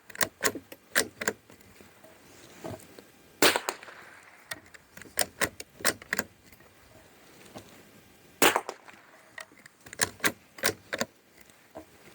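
A Norinco JW-15 .22 rifle fires Golden Bullet 36 grain rounds outdoors, a string of sharp, spaced cracks at an irregular pace, with quieter mechanical clicks and handling noise between the shots.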